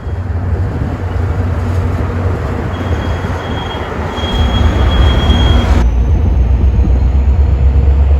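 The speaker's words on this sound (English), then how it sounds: "Here's an MP36 pushing on the Milwaukee District North train." A Metra MP36 diesel locomotive pushes a Milwaukee District North commuter train past, with a loud steady roar of wheels on rail, a brief thin squeal, and the engine growl swelling nearer toward the end.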